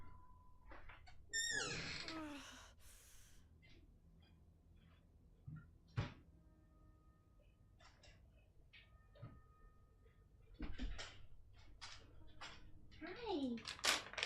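Indoor cats meow several times for treats, with a couple of rising calls standing out amid soft household clatter and someone speaking quietly.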